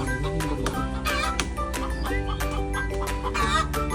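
Chicken clucking close by in a vegetable garden amid dense, busy background noise, with steady clucks scattered through a brief stretch.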